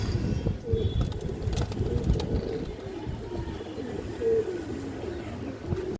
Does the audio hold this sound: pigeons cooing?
yes